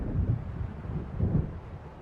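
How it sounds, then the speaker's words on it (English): Low, rolling thunder from an approaching storm in the Alan Wake video game near Diver's Isle, a muffled, distant rumble that swells twice over a windy, steady background. "It seems there's a storm coming."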